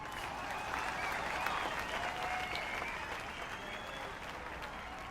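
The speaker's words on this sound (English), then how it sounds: "So let's hear a round of applause for Mila." A crowd in NBA 2K23 on PS5 applauds steadily at a Hall of Fame ceremony, a sustained wash of clapping with faint murmurs that stays even throughout.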